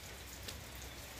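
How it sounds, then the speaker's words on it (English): Morning rain falls steadily on a path, a faint, even patter of drops with no voices. "Actually, it's raining here and it's morning."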